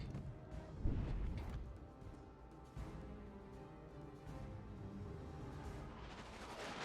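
Naval gunfire from a Kronshtadt ship in World of Warships Legends, one heavy booming salvo early followed by rumbling low-end fire and a second thud, set against continuous battle ambience.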